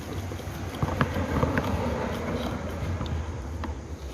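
A boat moves along the water outdoors in cold, breezy air, a steady engine-and-water wash with wind buffeting the microphone and a few faint knocks.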